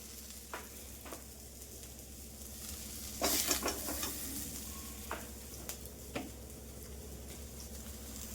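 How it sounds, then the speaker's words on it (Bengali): Potatoes, onions and peas frying in a pan, a soft steady sizzle with occasional clicks of a utensil and one brief louder scrape of stirring, with no voices. "এখানে আমার আলু পেঁয়াজ মটরশুঁটি দিয়ে ভাজা চলছে"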